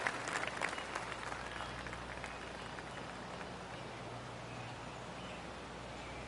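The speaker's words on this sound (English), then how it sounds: "Oh, I can hear the golf claps around the course." Scattered golf claps from a gallery around the course in the video game PGA Golf 2K26, a dense pattering crowd applause that holds steady at moderate level through the clip.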